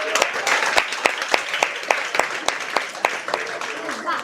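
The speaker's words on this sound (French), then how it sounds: "Est-ce qu'on peut juste faire un petit applaudissement pour Tonton Max et sa cuisine?" Audience applause for the chef at an event, sharp claps at a steady patter over a crowd murmur, with voices talking underneath.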